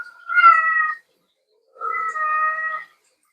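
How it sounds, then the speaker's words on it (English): A cat meows twice, two clear, drawn-out calls separated by a short silence, close and fairly loud with no other sound. "cats meowing."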